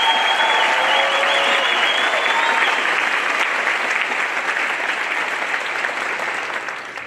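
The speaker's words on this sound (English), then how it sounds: "Let's give a round of applause for the class of 2023." A large graduation crowd applauds the Eau Gallie High School class of 2023, a dense, loud, sustained wash of clapping with faint cheers early on that holds steady for several seconds before tapering slightly at the end.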